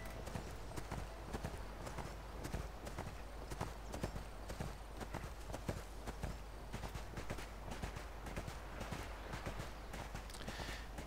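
Horse hooves clip-clop at a steady walking pace in the online game ArcheAge, an even, continuous rhythm of close, moderately loud footfalls.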